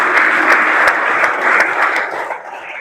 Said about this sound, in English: Can we give God a mighty hand clap?